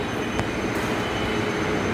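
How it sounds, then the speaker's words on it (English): Train noise at a Hyderabad metro station, a steady, loud rolling rumble of railcars with rail and wheel hiss throughout and no voices. "That's all from Hyderabad metro station."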